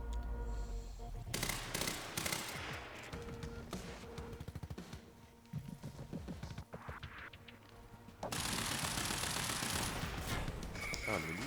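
Heavy, violent gunfire and blasts in the video game Quantum Break aboard a boat, dense crashing volleys that build to a sustained loud barrage, with game sounds throughout.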